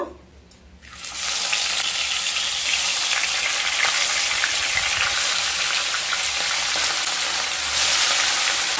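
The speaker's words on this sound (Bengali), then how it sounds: "ম্যারিনেট করা মাছগুলোকে ভেজে নেব।" Marinated fish pieces hit hot mustard oil in a pan, and after a brief quiet start a loud, dense, hissing sizzle bursts up and holds steady nearby.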